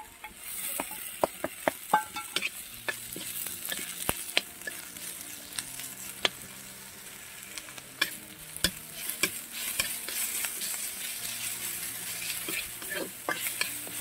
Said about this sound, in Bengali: বন্ধুরা হালকা হালকা আমার ভাজা হয়ে গেছে পেঁয়াজ আর এই যে রসুনগুলো।